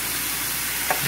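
Garlic frying lightly in a little oil in a pan, a steady close hiss of sizzling with a couple of faint scraping knocks near the end.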